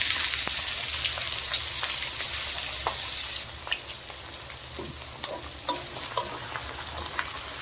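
Chopped onions frying in oil until brown, a dense, bright sizzle that eases after a few seconds into a lighter crackle broken by scattered spatula scrapes and taps against the pan.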